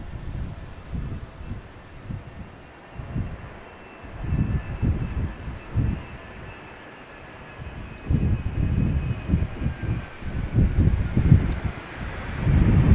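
Gusting wind rumbles across the microphone at Schiphol Airport in low, uneven surges that swell and fade, strongest in the second half, with a faint distant aircraft drone underneath and no talking.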